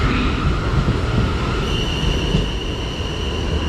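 A Class 450 electric multiple unit pulling out of Guildford station, a steady loud rumble of wheels and traction with a faint high whine rising partway through, continuous and close with no voices.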